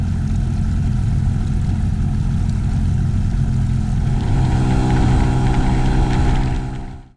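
A boat engine drones loud and close for several seconds on the Sound of Mull, a steady low rumble that swells slightly near the end before quickly fading out.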